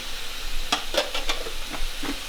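Broccoli sizzles and steams in a hot pan after a splash of water is added, a steady hiss close by with several bright crackling pops and stirring scrapes, no voices.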